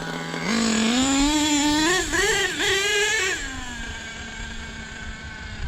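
Truck engine revving hard as the vehicle pulls a full wheelie, a loud close whine that climbs, wavers through several throttle surges and then eases back to a steadier hum.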